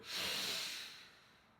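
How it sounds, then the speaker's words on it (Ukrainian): Close breath during a core-strengthening exercise for scoliosis: one long, airy breath with a soft snort-like onset that swells quickly, holds, then fades, heard alone without any talk. "Вдих. Видих. Вдих."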